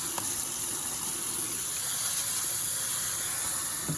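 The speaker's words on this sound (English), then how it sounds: "we are gonna rinse it off really nicely until the water preferably runs clear when you lift it" Quinoa and rice are rinsed under running tap water, making a steady, close hissing gush that flows without a break from start to finish, with no talking.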